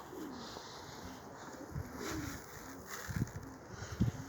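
Soft pigeon coos repeat several times at moderate distance, low murmuring calls rising toward the end over a faint background hum.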